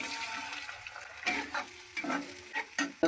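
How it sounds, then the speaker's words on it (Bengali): Chicken coated in egg sizzling in a hot pan, a steady frying hiss broken by several louder spatters as it is stirred. "এবার এটাকে একটু ভাজা ভাজা করে নেবো চিকেনটাকে"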